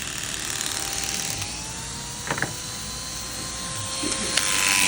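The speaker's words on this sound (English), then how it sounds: "then a little clipper over comb" Electric hair clippers buzzing steadily during a clipper-over-comb cut for a fade haircut, a constant close drone with small clicks, a voice speaking faintly over it.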